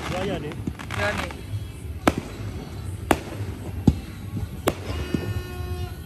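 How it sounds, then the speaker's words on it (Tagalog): A fireworks display at city hall thumps and crackles at a distance, with several sharp isolated bangs spaced a second or so apart over crowd murmur and a faint background of voices. "Nasa mga 7 minutes daw yung fireworks."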